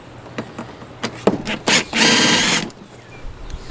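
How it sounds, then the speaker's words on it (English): A 1/4 inch driver fitted with a right-angle adapter turns a 13mm nut while removing a rear A/C evaporator case from an Acadia, Enclave or Traverse, giving short close bursts of whirring before one longer sustained run. "So I just put it on my 1/4 inch driver."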